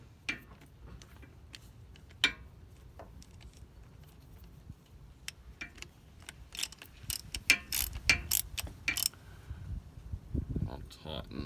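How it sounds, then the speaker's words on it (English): Socket wrench on a long extension ratcheting while tightening a Toyota Landcruiser starter motor during a rebuild, giving scattered clicks and ticks that thicken into rapid bursts near the end, close up over low background noise. "Just got my socket with a long extension."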